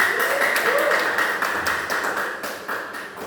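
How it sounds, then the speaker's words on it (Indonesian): Students in a classroom clap for a group that has just finished presenting, a soft, diffuse patter of many hands under a steady background hum, not very loud. "Oke, beri tepuk tangan."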